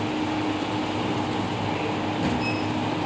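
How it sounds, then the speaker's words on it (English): An F-real self-serve milkshake machine at an Asda store blends a milkshake, making a steady, dense mechanical whirr and rumble that holds constant throughout, with faint store background and no speech. "Can you hear it blending?"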